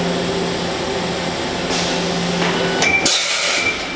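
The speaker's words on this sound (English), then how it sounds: "Second tool change." Mazak 4-axis machining center performing an automatic tool change, a steady machine hum broken by a quick mechanical clunk and a short whirring shift near the end, no speech.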